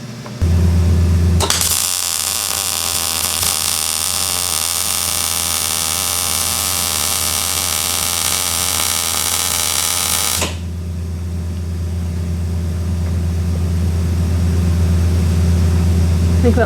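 Steady crackling arc from a MIG-style welder laying a bead across a gap on a DEATHWISH Hilux or Widelux build, loud and continuous for about nine seconds over a low engine-like drone, then cutting off abruptly.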